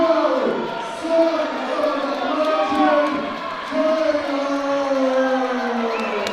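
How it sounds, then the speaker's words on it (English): A home crowd at a boxing event cheers and whoops for a Lockport fighter. The cheering rises and falls in waves, with loud sustained shouts rolling through the arena. "You hear the crowd cheering for the Lockport native"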